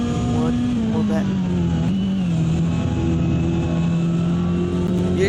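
A Corvette race car at Watkins Glen holds a steady, droning engine note with rich harmonics that dips slightly in pitch mid-run, while a commentator talks over it continuously.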